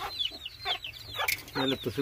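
A hen clucks to her young chicks at feeding time, giving a quick series of short, close clucks with thin high peeps from the chicks mixed in.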